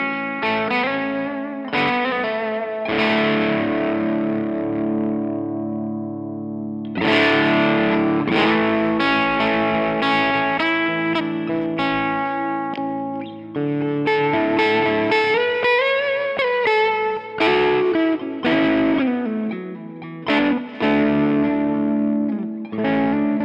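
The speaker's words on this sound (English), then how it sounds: "That's a great, really low gain overdrive sound." Electric guitar through an Echopark Echodriver pedal set for low-gain overdrive, strummed chords and picked notes with mild crunch and a touch of chorus-like shimmer, loud and continuous.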